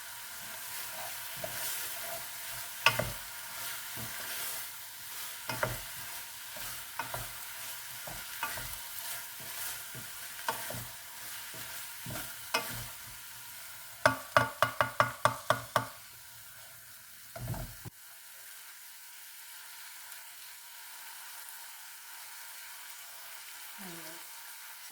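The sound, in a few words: stirring toasted seeds into a sizzling pan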